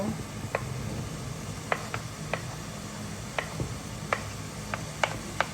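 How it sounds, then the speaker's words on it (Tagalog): Garlic and onion sauté in hot oil as a low, continuous sizzle with sparse, sharp spatter ticks spaced a second or so apart, close and fairly quiet, with no talking. "So, gigisahin lang natin to."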